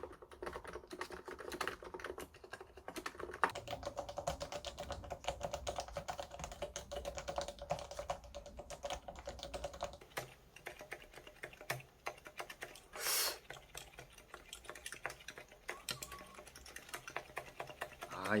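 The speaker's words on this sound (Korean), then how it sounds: "한성 무접점 키보드에다가 토프레의 러버돔만 이식해 볼게요" Soft, rapid keystrokes clatter on a Hansung Topre-style electrostatic capacitive keyboard fitted with Topre rubber domes, a quiet, steady stream of muted thocks close to the microphone.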